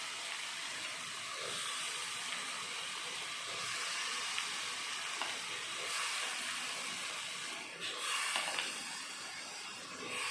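Meal maker soya chunks, soaked in hot water, fry in oil and masala in a pan, giving a steady bright sizzling hiss with small surges and crackles throughout, close and continuous, with no talking.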